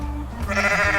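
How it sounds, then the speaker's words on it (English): A goat bleats in a goat video game, one short wavering baa that swells near the end, close and clear with no talk over it. "you can even baa like a goat"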